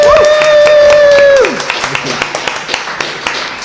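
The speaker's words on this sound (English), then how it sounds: "just give a little clap for Owen" An audience gives a round of applause for a performer at a singer-songwriter circle. Scattered claps come in under a fading sustained tone, thinning out to lighter, separate claps toward the end.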